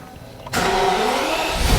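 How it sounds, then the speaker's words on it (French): BMW 760Li V12 engine cranking and catching after a quiet moment, then settling into a loud, slightly uneven idle that runs rough for the rest of the moment. "on sent que le moteur ne tourne pas très rond. C'est un V12"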